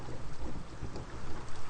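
Deep rolling thunder rumbles overhead in a PS4 game scene by a waterfall, low and sustained with rain-like hiss layered throughout, no voices present.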